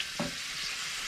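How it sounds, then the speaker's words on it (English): Smoked bacon lardons fry gently in a pan, producing a steady, bright sizzle with a soft stir or shift in the middle. "I'm just gently frying those off a little bit."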